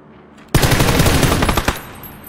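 Rapid automatic gunfire in PUBG on the Erangel map, a loud close burst of quick shots lasting about a second before it cuts off abruptly.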